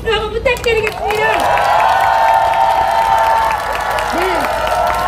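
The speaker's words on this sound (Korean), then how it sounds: "우리 종이가 포기하지 않고 끝까지 앞장서 싸울 수 있도록 우리 응원의 박수 한번 부탁드리겠습니다." A crowd at an outdoor memorial and protest rally breaks into sustained, loud applause and cheering that fills the space for several seconds, with scattered voices calling out over the clapping before it thins at the end.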